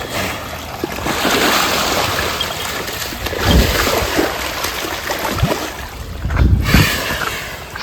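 A horse named Raj, let off its rope, splashes and rolls in water, giving a steady wet churning rush with heavier surges near the end, close and fairly loud.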